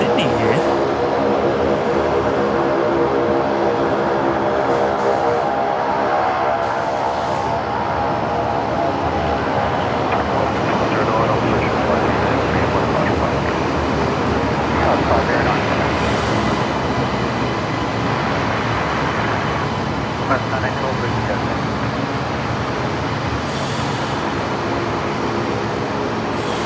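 Qantas passenger jet arriving from Sydney and touching down at Brisbane Airport, a loud, continuous broadband roar of engines and rushing air lasting throughout, with no break or pause.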